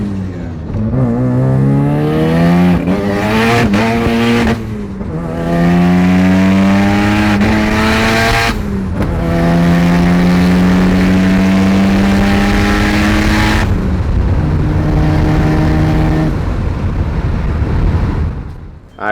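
A boosted car engine revs hard through a dyno-style pull, its loud, rising exhaust roar sweeping up repeatedly with brief drops between gear or throttle changes, close and continuous for the whole stretch.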